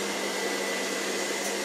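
A robot vacuum cleaner running indoors in a home, a steady, even whirring hiss with no breaks, close and fairly loud, with no one speaking.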